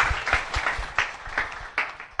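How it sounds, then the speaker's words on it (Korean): Scattered applause from a small group on a podcast, a steady patter of claps with a few louder bursts, no voices. "박수."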